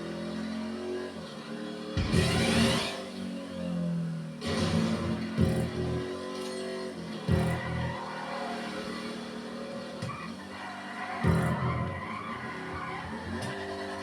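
Race car in a video game braking hard and sliding through a corner, with bursts of tire squeal and skidding over a steady engine drone, several loud screeches spaced across the run.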